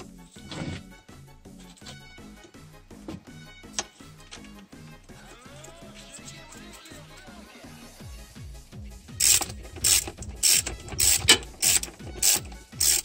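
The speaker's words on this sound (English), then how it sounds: "Install throttle body to intake manifold, torque it properly" Ratchet wrench tightening the throttle body bolts onto the intake manifold of a Toyota Echo/Yaris, heard as bursts of close, rapid clicking that grow louder and more insistent toward the end, with some clanking tool handling earlier.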